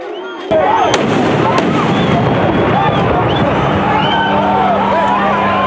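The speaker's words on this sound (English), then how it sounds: "Police eventually used stun grenades to disperse the students who were throwing objects at the police" Loud crowd noise from students at the Union Buildings, broken by sharp bursts from police stun grenades, the first blast arriving abruptly and a steady roar continuing after it, with voices mixed into the din.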